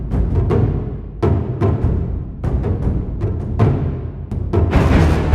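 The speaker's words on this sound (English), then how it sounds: "There's your taikos." Taiko drums from the Metropolis Ark 3 orchestral sample library strike in loud, booming hits with decaying tails, spaced in an irregular rhythmic pattern, close and prominent with no talking.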